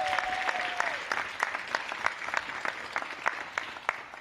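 Applause from an elementary school audience at a ribbon cutting for a modernized school, steady clapping throughout with a brief tone near the start.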